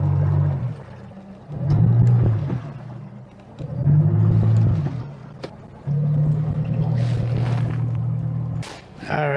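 A boat's inboard engine runs in gear at anchor on Lake Nipigon, a steady low rumble that swells and eases in long surges, loud and close, with no voices over it.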